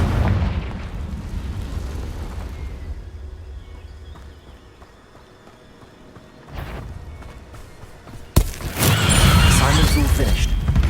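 Confringo blasting spell in the Hogwarts Legacy game: a sharp burst near the eight-second mark erupts into a loud, sustained rumbling roar, following a quieter stretch of low ambient rumble and an earlier short whoosh.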